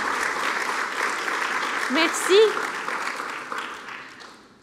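An audience applauds a presenter at a university research showcase, steady clapping throughout, briefly under a spoken word of thanks, then fading out at the end.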